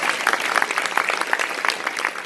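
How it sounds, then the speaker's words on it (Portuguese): A church congregation applauds during a Carnival retreat talk, a short burst of fairly close, dense clapping with no speech over it. "Vamos aplaudir a palavra de Deus."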